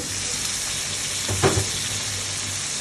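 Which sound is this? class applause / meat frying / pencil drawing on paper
meat frying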